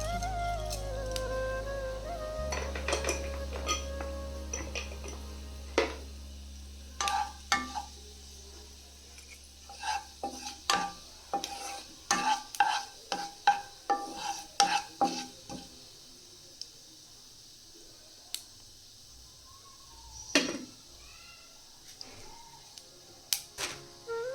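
Fennel seeds being stirred and fried in hot oil in a pan for a mango pickle, with quick spoon scrapes and taps over a faint crackle, close and fairly quiet, with gaps of near silence.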